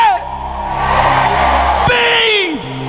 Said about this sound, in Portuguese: Dá um grito aí